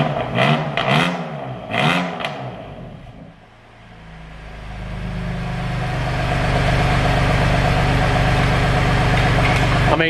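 A crash-damaged BMW M2 is quiet at idle under a voice at first, then revs to around 3,000 RPM and swells into a loud, sustained engine roar that holds steady.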